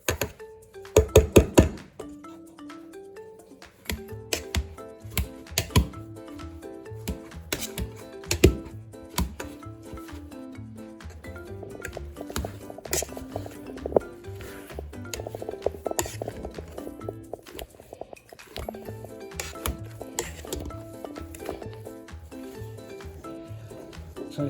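Monterey Jack and cheddar cheese pierogi filling being mixed in a bowl, with steady clinking and scraping of a utensil against the dish, repeated knocks and taps throughout at close range.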